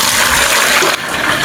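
Water gushes loudly and steadily into a container at close range, a constant rushing fill with a brief dip partway through.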